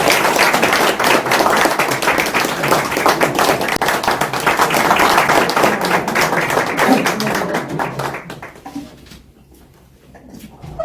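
A large forum audience claps steadily to welcome a politician to the podium, dense and loud for about eight seconds before thinning out and fading.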